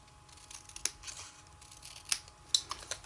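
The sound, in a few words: cutting the bottom off a paper label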